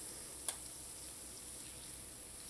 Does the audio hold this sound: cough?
no